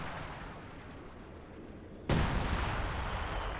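A Priest self-propelled gun barrage in a real-time strategy game, a low rumble of distant fire before a sudden loud blast erupts and leaves a dense crackling roar, with no voices.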